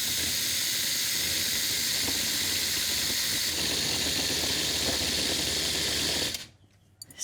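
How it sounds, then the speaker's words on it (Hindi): A kitchen mixer grinder coarsely grinding sattu whirs with a steady, loud, hissing motor drone, then switches off abruptly near the end. "ओके, अब इसे पीस लेते हैं। मोटा मोटा ही पीसना है, ज़्यादा बारीक नहीं करना है।"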